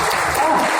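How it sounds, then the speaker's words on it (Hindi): An audience at an on-stage event in a Delhi hall bursts into loud, dense applause, a brief burst of clapping. "तालियां तो जोरदार हो जाएंगे ना।"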